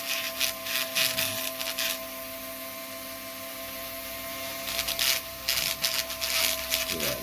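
A rotary burr grinds inside the port of an St170 engine, coming in harsh, scratchy bursts that start and stop, with a quieter stretch in the middle and a constant hum underneath.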